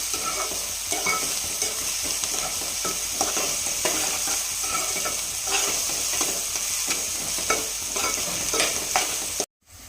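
Onions frying in a pan for mutton curry give a dense, even sizzle with repeated soft scraping stirs throughout, loud and close, before cutting off abruptly at the very end.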